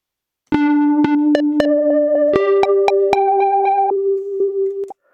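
Plucked notes on an OP-XY run through a synth-like effect pedal, each attack ringing into sustained, buzzy tones that step up in pitch before fading out.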